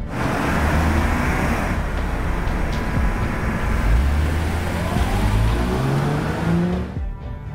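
A car drives toward an office, its engine a steady loud rumble with rising and falling revs and road noise, then it cuts off abruptly near the end.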